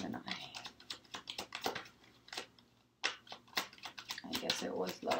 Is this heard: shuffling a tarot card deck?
yes